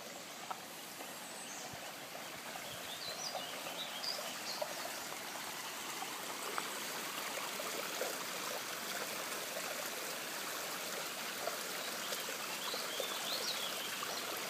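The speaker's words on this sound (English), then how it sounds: "almost at the level of the little river, or stream, or whatever you'd like to call it" A small river stream flows beneath a historic iron bridge, a steady broadband rush and trickle of water that stays even and fairly close for the whole stretch, with no talking.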